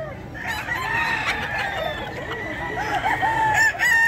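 Roosters crow at the Bocaue pet market in Bulacan, with several overlapping crows and clucks against a busy background of other fowl, moderately loud and with no talk.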